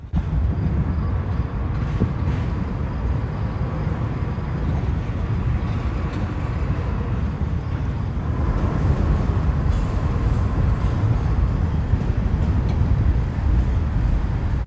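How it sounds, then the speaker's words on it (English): A CPKC freight train is shoved slowly into an intermodal ramp at a rail terminal, giving a steady low rumble and rolling wagon noise that holds loud and even throughout, with no voices. "this train was being shoved into the intermodal ramp"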